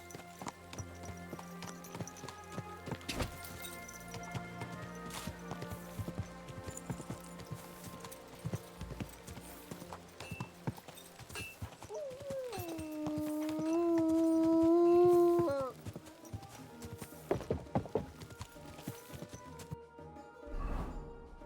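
Horse hooves clop steadily amid clattering and rustling in the video game Kingdom Come: Deliverance II, and a long drawn-out whinny-like cry swells loudly partway through.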